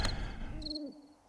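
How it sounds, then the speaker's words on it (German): An eagle owl hoots inside the survival game 7 Days to Die, a single deep hoot that swoops downward, heard clearly and alone. "Uhu."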